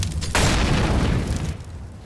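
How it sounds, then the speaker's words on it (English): An incendiary grenade bursts in a tactical shooter game during a B site cache execute, a sudden loud boom followed by a roaring, crackling rush of fire that fades over about a second. "Incendiary out."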